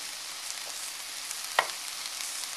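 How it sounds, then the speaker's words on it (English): Onions and peppers frying in a pan for pepper steak give a steady, even sizzle with one brief clink of a utensil partway through, close and alone without talk. "get these onions, the onions and peppers cooked down a little bit so they're soft"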